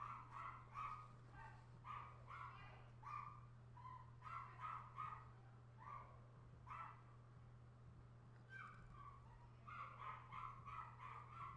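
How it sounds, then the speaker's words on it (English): Dogs bark repeatedly in an apartment hallway, with bursts of sharp barks and yips coming through from just outside the door, muffled and fairly faint over a low steady hum. "So they're barking right in front of my door."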